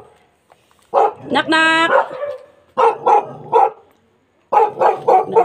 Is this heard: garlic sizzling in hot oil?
no